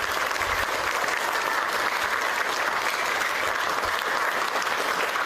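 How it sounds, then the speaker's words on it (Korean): Sustained applause from an audience at a May 18 Gwangju democracy forum in Korea, steady and dense throughout, with no talk over it. "다시 한번 뜨거운 박수 부탁드립니다"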